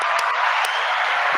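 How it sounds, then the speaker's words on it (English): Audience applause greeting a guest, the head women's basketball coach of the Ole Miss Rebels, on a talk show: a steady, dense wash of clapping from a crowd, loud and sustained throughout with no voices over it. "Clap it up"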